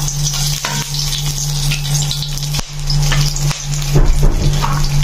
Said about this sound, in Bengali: এদিকে আমার তেলটাও গরম হয়ে গেছে। আমি এর মধ্যে একে একে তেজপাতা, গোটা গরম মশলা,